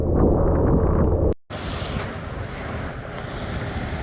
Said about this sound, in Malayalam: സ്റ്റെപ്പിൻ്റെ മുകളിൽ ഇങ്ങനെ തട്ടായിട്ട് ഇങ്ങനെ വെള്ളം ചാടി വരുന്നു.